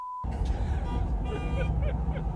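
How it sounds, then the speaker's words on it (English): A car horn honks at a driver, heard as a short sustained blare over steady road and engine rumble from inside a vehicle, with a person talking around it. "Why is this guy honking at me?"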